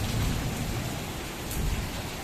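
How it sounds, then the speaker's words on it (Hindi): Heavy rain pours down in a dense, steady roar with a deep rumble underneath, loud and continuous, with no voices. "बारिश आज बहुत तेज़ हो रही है।"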